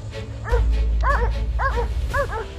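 Beagle Harrier hunting dogs bark at a cornered wild boar, with four loud, close yelping barks coming at a steady, spaced rhythm over a low background rumble.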